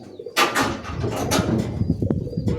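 Flock-flying Giribaz pigeons coo nearby in low, throaty calls, accompanied by some rustling and a brief flutter, close and fairly loud.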